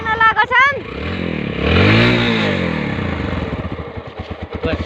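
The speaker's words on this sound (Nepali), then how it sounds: "दाइले चाहिँ अब बाइक घुमाउन लानु भएको छ।" A motorcycle engine rumbles nearby as the bike is ridden and turned around on a road in Rolpa, Nepal, rising and falling in pitch with a rhythmic putter toward the end; people speak over it.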